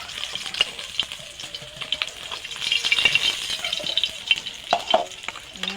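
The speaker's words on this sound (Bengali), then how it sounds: "মাছটা আমি উল্টে পাল্টে ভেজে নেব।" Tilapia fish fries in oil in a pan, giving a soft, crackling sizzle with light scraping and stirring clatter as the pieces are turned, close and fairly quiet.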